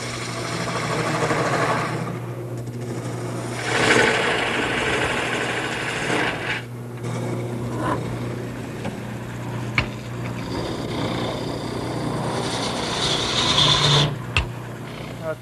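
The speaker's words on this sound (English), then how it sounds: "So I'm going to go to my largest gouge and start roughing it out." Wood is rough-turned on a lathe with a large gouge, giving a continuous close scraping and rasping over the motor's steady hum, with the cut swelling and easing as the tool moves along the long spindle.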